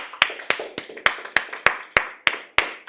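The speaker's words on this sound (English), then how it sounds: "give yourselves a big round of applause" A small group of course attendees clapping at the close of a leadership course, sparse distinct claps in a slow, fairly even rhythm, about nine sharp hits, close and clear in a quiet room.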